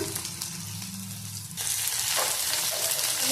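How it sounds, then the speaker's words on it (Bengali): Chopped tomato and onion frying in a pan with dried chilli and cumin, a steady close sizzle that grows louder and brighter halfway through as the tomato goes in, with no talking. "দিয়ে দিচ্ছি কেটে রাখা টমেটো।"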